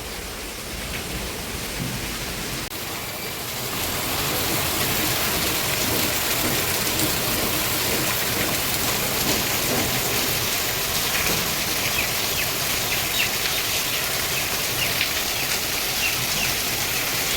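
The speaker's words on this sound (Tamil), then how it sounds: "Let it rain." Heavy rain pours steadily, a dense roaring hiss that grows louder after a few seconds and continues unbroken, with no voices.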